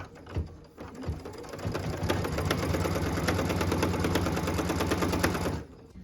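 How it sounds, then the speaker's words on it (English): A sewing machine stitches the tack-down line on a log cabin quilt block, a close, fast mechanical chatter that runs steadily for several seconds after a few starting clunks, then stops. "What we're stitching now is the tack down line for piece number 3."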